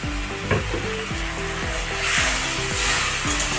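Spice masala sautés in a pan with a little water, a loud steady sizzle broken by repeated rhythmic scraping strokes of a spatula, close up with no talk.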